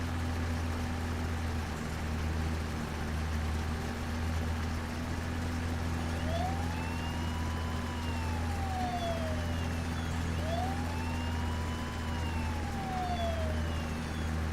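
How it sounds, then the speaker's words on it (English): A continuous wailing emergency siren from the video game Farming Simulator 22 rises and falls in long sweeps over a steady low engine drone, loud and unbroken with no one talking. "that siren's gonna be going on for like 10 minutes."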